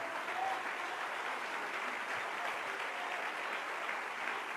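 Church congregation applauding for Jesus at a Spanish-language Friday worship service, with a steady wash of many hands clapping at moderate level, evenly sustained without breaks and no voices.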